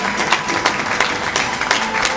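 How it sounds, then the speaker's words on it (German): Sparse audience applause rises in an arena at a stallion show, a thin, uneven patter of individual claps with a few louder hand strikes, fairly distant and steady. "vielleicht wird man gerade ein bisschen sparsam im Applaus"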